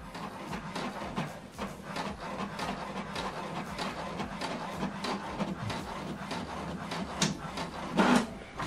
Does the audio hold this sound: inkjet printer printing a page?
yes